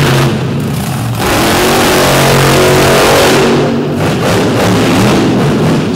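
A Ford race car out of Michigan launches hard and accelerates under a roof at an all-star destruction event, its engine roaring loud and close, steady and sustained with a rising pitch.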